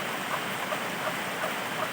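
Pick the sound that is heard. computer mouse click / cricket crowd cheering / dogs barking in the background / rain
rain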